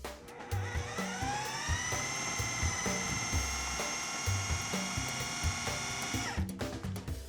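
A food processor runs steadily, first on low and then on high, blending a cream cheese mixture in its bowl; the motor gives a loud, continuous whine with a rhythmic low churning, then stops abruptly near the end.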